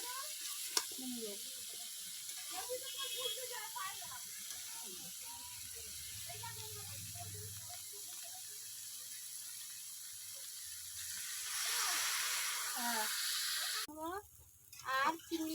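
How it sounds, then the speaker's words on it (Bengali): Pumpkin and Malabar spinach cooking with prawns in a pan give a faint, low sizzle with scattered clinks and scraping, broken by louder bursts near the end. "এই দেখুন কুমড়ো পুঁই শাক রান্না হচ্ছে"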